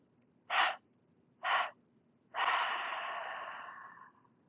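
Deliberate breaths during a seated chair yoga exercise, two short sharp exhales followed by a longer drawn-out exhale that slowly fades, close and clear against a quiet room.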